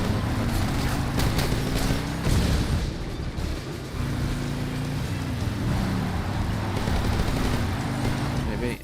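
Rapid AK rifle bursts in Metal Gear Solid Delta gameplay, loud and continuous across the clip with dense crackling shots over a steady low rumble, one brief lull near the middle before firing resumes.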